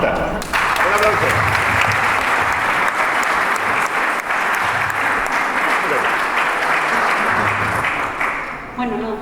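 An audience at a professional conference applauds a speaker, steady and dense clapping that holds loud for several seconds before tapering near the end, with some voices mixed in underneath.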